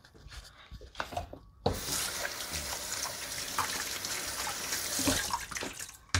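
Tap water runs steadily at a kitchen sink while food is rinsed for lunch, a continuous close splashing rush after a brief quieter start, with no talk.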